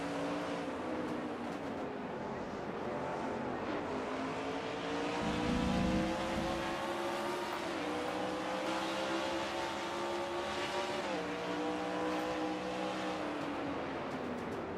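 A NASCAR stock car in a racing sim at Watkins Glen, the engine droning steadily at high speed with rising and falling pitch as it shifts through gears, loud and continuous with no talk.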